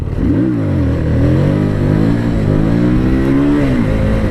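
Harley-Davidson Street Rod motorcycle accelerating hard, its loud, close engine note rising in pitch through a steady, throaty pull, then briefly dropping and climbing again near the end.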